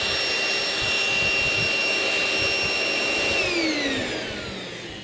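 A Bissell or Hoover cordless stick vacuum runs with its brushes on, a steady loud whine with high motor tones that drop in pitch near the end as it winds down.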